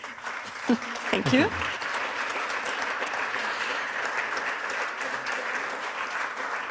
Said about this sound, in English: Maybe applause.